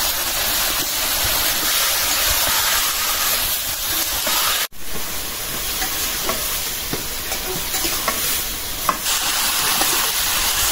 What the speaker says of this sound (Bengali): ছোটা পেঁয়াজ একদম ভাজা ভাজা করে মশলা কষাইছি